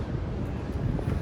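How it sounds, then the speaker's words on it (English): Wind blowing across the deck of the Ruby Princess cruise ship on a run from San Francisco to Vancouver, a steady, low, buffeting roar against the microphone, close and without talk. "wow, it's windy"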